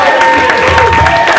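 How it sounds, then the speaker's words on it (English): A comedy show audience applauds and cheers loudly, a dense crowd of clapping and whoops close and sustained throughout. "Y'all give him another round of applause"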